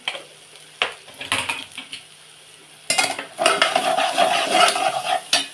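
Masala being dry-roasted and stirred in a pan, with scraping and clinking of a utensil against metal, quiet scrapes at first, then a denser, steady sizzle and rustle of stirring.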